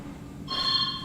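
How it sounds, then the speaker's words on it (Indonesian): A bright electronic telephone ring begins abruptly after a moment of quiet, sustained and fairly loud. "Suara telepon kabel."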